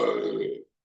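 A single burp forced up and out through the mouth, loud and close, lasting just over half a second before cutting off into silence.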